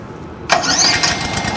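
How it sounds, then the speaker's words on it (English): A hybrid RCLM lawn mower's gas engine fires up abruptly after a short quiet stretch, then settles into a loud, steady running roar up close. "simply just start the gas engine"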